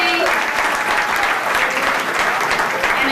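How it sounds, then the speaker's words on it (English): At a chamber of commerce awards ceremony, an audience gives loud, sustained applause for Assemblyman Kevin Mullen. The dense clapping fills the room evenly, with a faint voice briefly under it at the start. "Let's give a big round of applause for Assemblyman Kevin Mullen."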